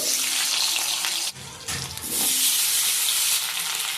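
Cut potatoes dropped into hot oil left in the pan after frying fish hiss in a loud, dense sizzle that dips briefly, then surges back strong and steady. No voices.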